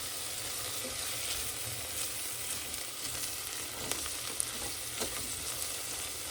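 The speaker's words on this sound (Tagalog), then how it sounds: "isahin lang natin yung bawang at sibuyas" Garlic and onion sauté in a pan with a steady, close sizzle and a few faint spoon scrapes, moderately quiet and continuous, no voices.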